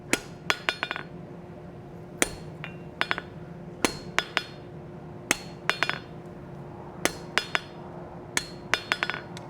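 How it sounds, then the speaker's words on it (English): A soft face hammer strikes metal stock on an anvil to cut it off while forging roses: sharp metallic knocks in irregular bursts and doubles, close and distinct over a low steady hum, with no talking. "We're going to take a soft face hammer here. And I'm going to go ahead and cut this material off"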